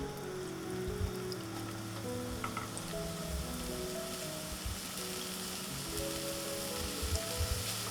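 Grated mawa cooks in ghee in a pan on a low flame, giving a steady, even sizzle that carries on without a break, with no one speaking.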